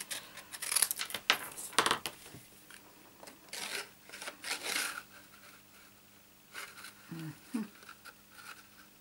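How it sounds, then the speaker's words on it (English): Scissors snip through a small piece of card during a paper-craft stamping demo, a few quick close-up cuts in short bursts with quiet gaps, plus a faint soft handling sound later. "I need to cut a little piece off here."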